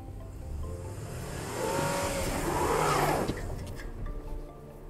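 A 2020 Range Rover Evoque engine revving hard off-road in snow, the pitch rising and falling as the compact luxury crossover strains, fairly close with tyre noise and no talking.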